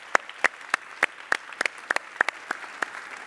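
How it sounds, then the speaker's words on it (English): Sparse applause at a talk festival, a handful of distinct claps ringing out one by one at a fairly regular pace over a quiet room, thin rather than a full crowd. "Can we give Lance and Tracy and Helena a round of applause?"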